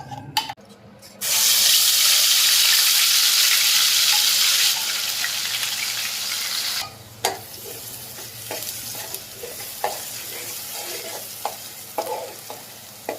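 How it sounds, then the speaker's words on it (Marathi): Ground masala paste hitting hot oil in a pot for egg curry, a loud burst of sizzling that settles into a quieter frying crackle with occasional stirring clinks, no talking. "आता आपण पातेल्यामध्ये मी तेल घातलेलं आहे तर हे मसाला आपण ह्याच्यामध्ये फ्राय करून घेऊया"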